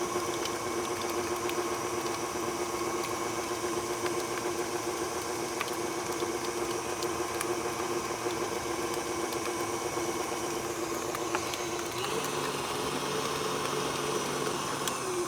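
An electric mixer whirs steadily at medium speed as eggs are beaten one at a time into pumpkin bar batter, a continuous droning hum that shifts slightly in tone near the end, with no talking.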